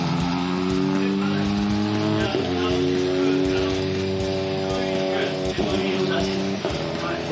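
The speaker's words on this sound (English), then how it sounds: "The anti-lag on that car is insane." A drift car with anti-lag at Okayama International Circuit during Formula Drift Japan, its engine droning and rising with sharp pops and crackles, heard continuously under commentators talking.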